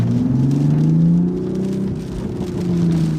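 A 2020 Toyota Supra in sport mode gives a low, steady engine drone and rumble that rises slightly in pitch as it accelerates, heard from inside the cabin with no voices.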